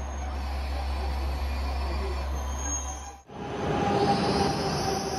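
A local train on the Johana Line between Takaoka and Shin-Takaoka in Japan, heard from inside: a steady low rumble and hum of the moving car, briefly dipping before the running noise returns slightly louder.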